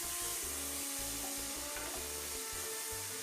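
Onions and chopped tomatoes sautéing in a pan for a Tamil mushroom gravy, a steady soft sizzle with intermittent scraping and stirring strokes throughout, fairly quiet and with no talking.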